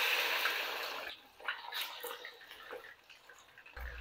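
One kilo of chicken is dropped into hot ghee for a karahi and fries with a loud hiss and sizzle that fades after a second into softer crackling and popping, heard close and without talk.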